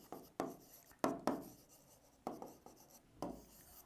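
Marker or chalk strokes on a classroom board during an accountancy lesson, a handful of separate scratchy swipes with short gaps between them, faint and close, with no talk.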